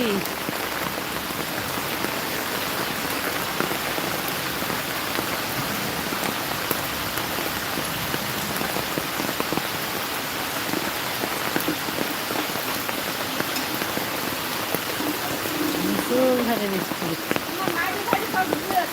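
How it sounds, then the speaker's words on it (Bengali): Heavy low-pressure-system rain pours steadily on surfaces, a dense, constant hiss of drops with voices faintly present beneath the downpour. "এমন বৃষ্টি নেমেছে যে চারিদিকে ভাসিয়ে নিয়ে যাবে"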